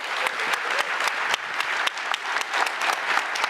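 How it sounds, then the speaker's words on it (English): Dense, steady audience applause for a conference panel, many hands clapping together at an even loudness with no talk, sustained throughout. "Can we give our panel a round of applause"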